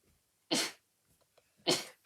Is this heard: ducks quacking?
no